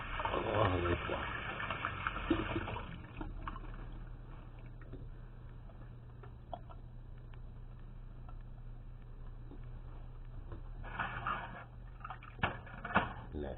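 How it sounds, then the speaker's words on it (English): Hands are washed under a running kitchen tap while beef stew is being cooked; a gush of water opens the stretch, quieter handling sounds follow, and the flow returns near the end, with some talking in between. "Always wash your hands."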